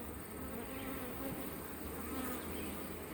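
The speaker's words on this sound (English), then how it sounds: "I have a bunch of angry bees." A dense, continuous buzzing of a huge swarm of angry bees in August fills the air, steady and close, with individual drones rising and falling within the swarm.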